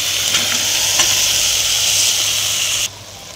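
Taro stolons and dried fish sauté in a hot pan with jackfruit seeds, giving a steady, loud, close sizzle that cuts off abruptly near the end.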